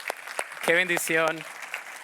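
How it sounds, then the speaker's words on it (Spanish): Scattered hand claps patter briefly while a voice speaks over them in the middle. "Un aplauso fuerte"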